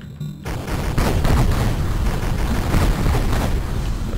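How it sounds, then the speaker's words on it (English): Explosion in the PC shooter Duke!ZONE II, a loud burst of rumbling, crackling blasts that starts abruptly and keeps rolling with dense booms for several seconds. "I just thought a fun explosion would be good"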